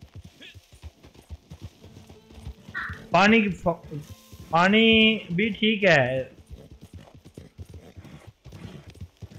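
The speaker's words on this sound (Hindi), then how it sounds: "अबे यार घोड़ा निकल ही आया" Horse hooves clip-clop in a steady, even rhythm in Red Dead Redemption 2 Online, a soft continuous patter heard throughout while someone talks over it.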